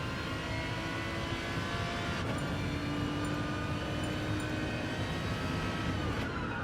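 Race car engine in Gran Turismo Sport, droning steadily at high revs down the main straight on a flying lap, loud and continuous with a sustained whine and no talk.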